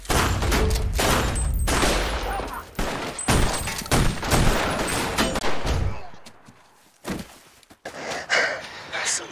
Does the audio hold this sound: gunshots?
yes